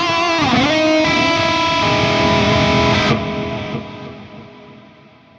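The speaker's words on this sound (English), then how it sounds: "So you just hear that big Plex delay, just fill it out." Electric guitar run through an Axe-Fx III Mesa Triple Crown preset with Plex Delay: a loud, sustained distorted chord rings out, then swells into a wide, shimmering delay tail that gradually fades away.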